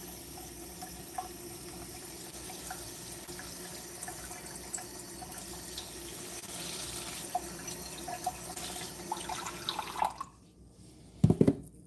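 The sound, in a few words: cold water running from a tap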